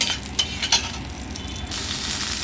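Chopped vegetables drop into oil tempered with cumin, bay leaf and chilies. A few quick stirring scrapes come first, then a dense, even frying hiss swells and holds, with no voices.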